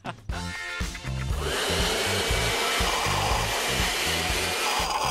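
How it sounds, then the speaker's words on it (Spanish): A loud vacuum cleaner motor whirs continuously with a broad rushing hiss, starting abruptly after a short clatter and running steadily to the end. "¿Una aspiradora lo limpiará?"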